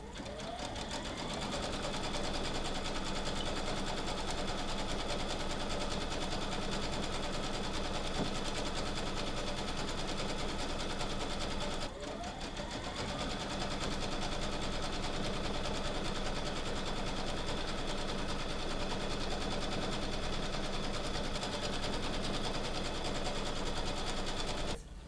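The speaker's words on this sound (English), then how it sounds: "I'm gonna go ahead and zigzag all the way around the circle of the outside of my fabric." A sewing machine zigzag-stitches around the outside of a fabric circle, running steadily with a fast, even mechanical whir and needle chatter close by, pausing briefly midway before resuming.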